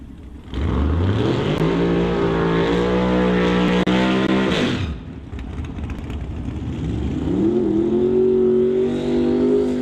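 Outlaw 275 drag race cars at a strip roar to life and rev hard, a loud sustained blare rising in pitch, cutting off abruptly, then a second engine climbing and holding a high rev, with no talking.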